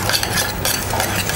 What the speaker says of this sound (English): Take a spoon and